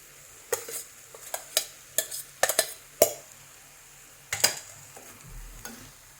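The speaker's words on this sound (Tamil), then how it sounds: "இந்த மசாலா ஆயிலில் ஃப்ரை ஆன உடனே நமக்கு ரைஸை போடலாம்." Masala fries in oil in a pan, sizzling steadily while a spoon stirs and clinks against the metal in quick irregular strokes, close up, with no voices.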